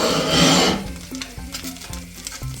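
Chopped garlic dropped into melted butter in a pan, a brief hiss at the start, then soft scraping and stirring with a few light knocks against the pan, close and without talk.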